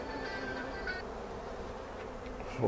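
Honey bees buzz around opened hive boxes and honey supers, a steady, moderately close droning hum with a few individual bees whining past, continuous and unbroken.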